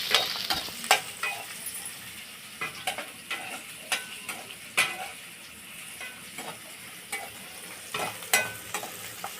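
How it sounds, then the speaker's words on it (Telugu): Onions fry in a pan for buttermilk rasam, with a soft steady sizzle underneath. A spoon scrapes and knocks against the pan in irregular strokes, close by and fairly quiet. No one talks. "ఈ ఉల్లిపాయలని తెలుసు కదండి, దోర కలర్ వచ్చేంత వరకు బాగా వేగనిద్దాము"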